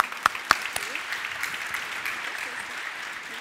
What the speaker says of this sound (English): Let's give her a round of applause to encourage her.